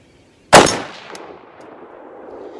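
A single sharp rifle shot from an AR10 chambered in .30-06, loud and close, with a bright crack followed by a long decaying echo rolling out across open ground.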